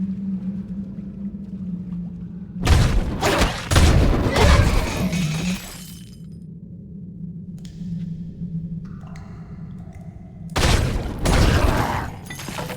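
Fire attacks strike enemies in Baldur's Gate: Dark Alliance, loud whooshing blasts in two bursts with a separate later burst, over a steady low game hum.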